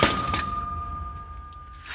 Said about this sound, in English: I'm going to press it out. And when it comes out with a bang.